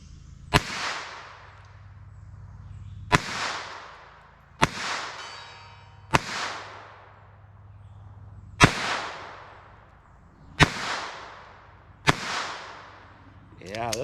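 Aguila 22 Sniper Subsonic 60-grain .22 LR rifle fires seven sharp, evenly spaced shots outdoors, each a crisp close crack with a short decaying tail, roughly every two seconds.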